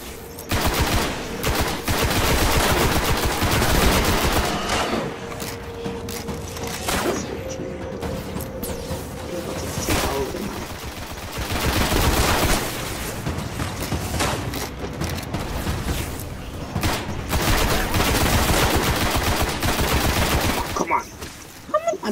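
Sustained gunfire in the sci-fi shooter game Destiny, with long stretches of rapid automatic shots and mechanical clatter, loud and near, with occasional pauses between bursts.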